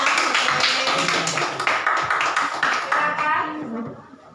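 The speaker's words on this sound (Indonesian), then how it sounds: "Beri tepuk tangan untuk teman kalian." Classmates clap together in a classroom after a group presentation, a dense burst of applause that holds steady before fading out toward the end.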